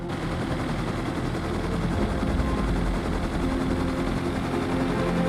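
Helicopter flying in a survival video game, a steady loud rotor and engine drone running the whole time with dense low rumble, alone with no talk.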